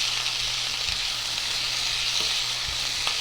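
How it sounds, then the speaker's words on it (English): Food sizzles steadily in a hot pan with sliced almonds, a few soft scrapes of a quick stir breaking through the constant frying hiss. "we are going to give that a quick stir"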